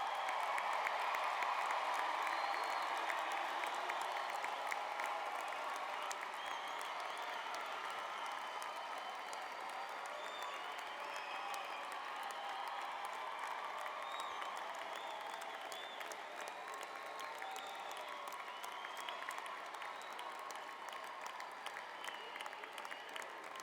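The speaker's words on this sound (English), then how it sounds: "would you please recognize all of our graduates with a round of applause?" Sustained applause from a large crowd at a graduation ceremony, a steady wash of many hands clapping in a big hall, heard from a distance and holding at an even level throughout.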